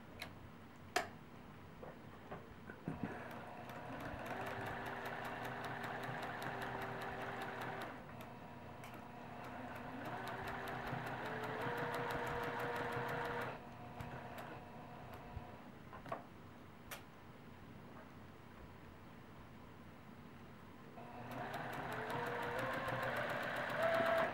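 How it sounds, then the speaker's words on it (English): A sewing machine stitches a quarter-inch seam on a quilt block, its rapid mechanical ticking running in several long bursts separated by short pauses, close and steady. "And now we're ready to stitch this with a 1/4 inch seam allowance."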